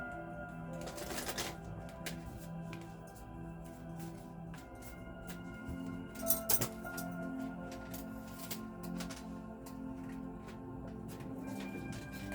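Tarot cards shuffled by hand in a quiet room, several crisp riffling bursts and soft slides spread through the clip, close and fairly faint over a steady background hum.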